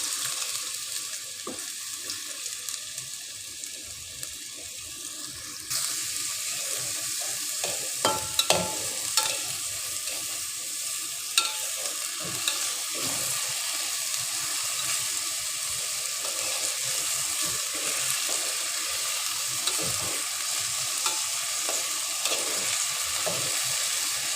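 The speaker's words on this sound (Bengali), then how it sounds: "তেলটা গরম হয়ে এসছে। এখন আমি এখানে পেঁয়াজ কুচিটা দিয়ে দিচ্ছি।" Chopped onion goes into hot mustard oil, and a quiet hiss swells into a louder, steady frying sizzle, with occasional clinks and stirring scrapes nearby and no voices.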